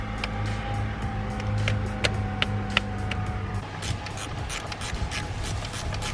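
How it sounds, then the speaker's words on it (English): Clicking ratchet mechanism from a 3/8 wrench backing a small top bolt off a BMW N54/N55 engine, a steady run of close, sharp ticks over a low background hum that drops away partway through. "for this little top bolt right here, we're going to be using a 3/8 wrench."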